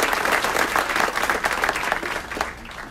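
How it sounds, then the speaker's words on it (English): A city council meeting audience applauds a police lieutenant, dense clapping from many hands that swells early and then gradually thins, moderately close and with no voices on top. "Next, please give a round of applause to Lieutenant Lawrence Suttle,"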